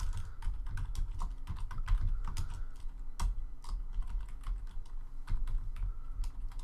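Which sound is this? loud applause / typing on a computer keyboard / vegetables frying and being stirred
typing on a computer keyboard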